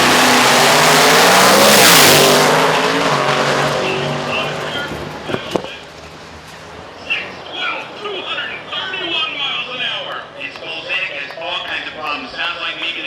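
A drag racing car at a quarter-mile elimination round revs hard and loud for the first few seconds, then the engine note drops away while a commentator keeps talking over the crowd.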